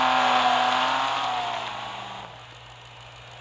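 A 2012 Audi TT RS Coupe in the Real Racing 3 racing game revs up, its engine note holding and then falling away as it fades, ending with a short sharp click.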